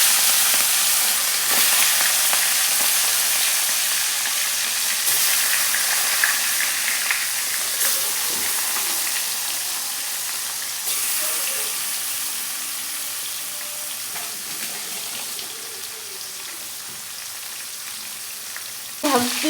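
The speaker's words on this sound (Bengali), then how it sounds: "তেল অনেক ভালো গরম হয়ে গেছে এখন মাছ দিয়ে দেবো" Fish frying in hot oil makes a loud, dense crackling sizzle that gradually softens over time, with a sharp burst near the end.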